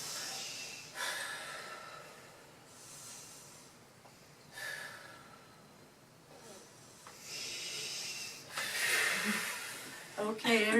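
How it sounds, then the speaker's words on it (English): A group of people in a hospital care training session takes three deep breaths, audible as long airy inhales and exhales rising and falling in slow waves, with a louder breath near the end. "So let's all take 3 deep breaths."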